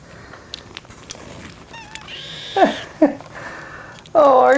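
Newborn kittens give a few thin, squeaky meows and soft sniffing snuffles close to the microphone, short and scattered, ending in a louder drawn-out mew.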